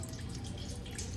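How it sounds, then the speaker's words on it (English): Cold water tap running in an AutoTrail Miami motorhome, a close, steady spluttering rush of water into the sink with dripping texture throughout. "I pull the cold water through."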